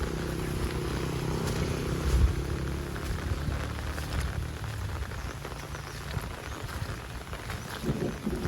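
Heavy rain falls steadily during a thunderstorm, a dense constant hiss with a low rumble early on, heard close and without talking.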